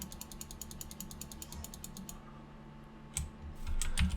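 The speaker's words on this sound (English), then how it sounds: "So I'm clicking on the top and it's making it turn." A mechanism in the Minecraft mod Immersive Engineering turns after being clicked, a steady run of quick, evenly spaced ratcheting clicks, close and clear, then a pause and a few more clicks.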